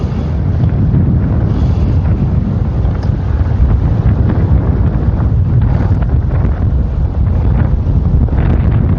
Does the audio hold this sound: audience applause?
no